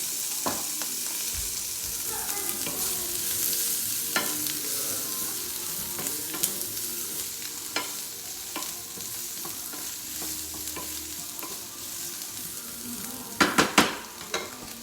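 Onions frying in olive oil in a pan sizzle steadily up close, with frequent stirring scrapes and clicks and a cluster of sharper utensil knocks near the end, no voices.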